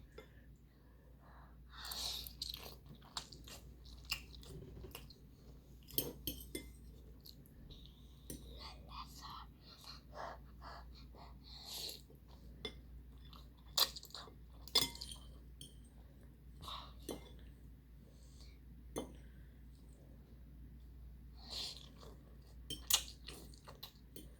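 Someone eats Jjapaghetti noodles with quiet slurps and chewing, while cutlery clinks on a dish now and then and people talk softly nearby.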